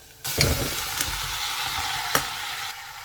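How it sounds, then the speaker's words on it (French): Mashed squash is poured into a pan of onions and garlic frying in a little oil, setting off a loud, sudden sizzle that holds steady with a couple of sharp crackles, close by and without talk. "Je vais verser le potimarron."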